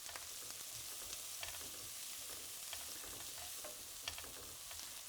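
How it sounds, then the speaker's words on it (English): Mushrooms and onions fry together in a pan, giving a soft, steady sizzle with occasional faint stirring scrapes, quiet and with no talk. "I'm going to add the mushrooms so that they're all cooked together with the onions."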